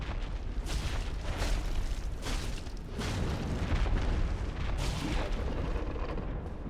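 Explosions during a boss fight in an action video game, a rapid series of heavy booming blasts rolling one after another for several seconds at a loud, steady level.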